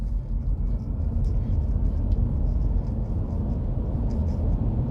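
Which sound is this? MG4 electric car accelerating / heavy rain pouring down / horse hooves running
MG4 electric car accelerating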